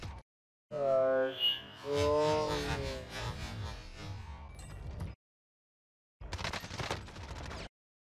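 Rapid gunfire from the video game Call of Duty Warzone rattles in two dense bursts, a long volley followed after a short silence by a briefer one, loud and close with no talking.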